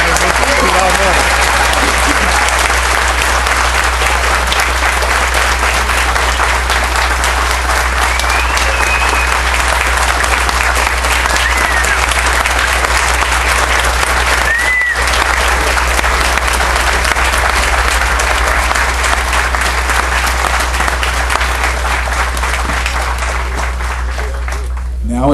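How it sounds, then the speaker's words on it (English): Audience at a veterans' award ceremony applauding the On the Rise awardees, steady loud sustained clapping from a large crowd lasting throughout, with a low hum underneath. "let's have a round of applause for the On the Rise awardees"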